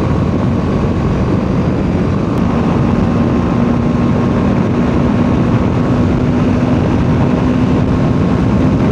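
A motorbike cruises at about 126–133 km/h on a highway between Mumbai and Shirdi, giving a loud, steady roar of engine and wind rush that stays unbroken throughout with no talk.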